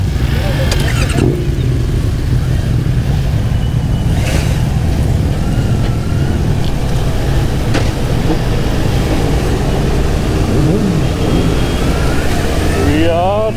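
Sport motorcycles on a group ride, including a Honda CBR 650R, Kawasaki ZX10R and Z900, idle and rev loudly nearby, one fitted with an Akrapovic exhaust, giving a rumbling bed with short rising blips, while people talk over it.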